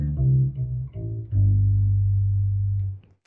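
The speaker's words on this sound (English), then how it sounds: "If we use the edges of my fingers or the tips, it would sound like this." Bass guitar strings plucked with the edges of the fingertips give several deep, round notes, the first few short and separated, then one longer note that rings and fades, played alone with no voices.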